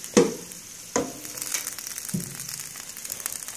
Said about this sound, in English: the peppers are very hot. You can still hear them sizzling